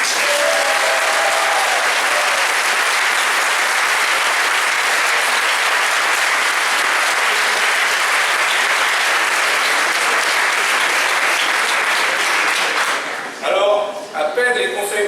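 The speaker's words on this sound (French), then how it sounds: "Cyril Naud, qui mérite vraiment vos applaudissements" A hall audience at a political meeting gives long, loud, sustained applause. The dense clapping holds steady for most of the span, then thins out quickly, and voices come through near the end.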